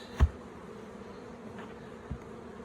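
Bees swarm around a crowded beehive as it is opened, giving a faint, steady buzzing hum broken by two sharp knocks.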